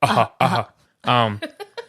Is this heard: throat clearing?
yes